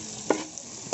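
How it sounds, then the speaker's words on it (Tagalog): Garlic and onion sautéing in a pan for beef lumpia make a soft, steady sizzle with a couple of brief stirring scrapes, close and fairly quiet, with no talking. "Magisa tayo ng bawang. Ngayon ay ilagay ko ng ating sibuyas."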